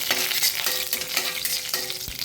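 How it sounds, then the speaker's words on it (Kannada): Urad dal frying in hot oil for a tempering, a close, dense crackling sizzle that runs steadily throughout with small pops and stirring, no voices. "ಸ್ವಲ್ಪ ಉದ್ದಿನ ಬೇಳೆ ಕಂದು ಬಣ್ಣಕ್ಕೆ ಬರಲಿ."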